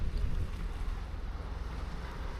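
A car ferry pulls away from the dock with its bow lowered for sailing, a steady low engine rumble and water wash mixed with gusty wind noise across the microphone, continuous and moderately loud.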